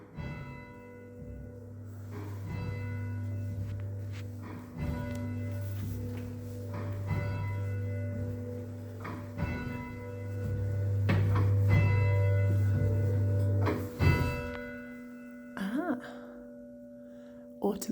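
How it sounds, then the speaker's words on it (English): An automated village church bell rings in a slow, regular series of strokes, each one lingering, heard at moderate distance with a low steady hum underneath. "Automated bell ringing."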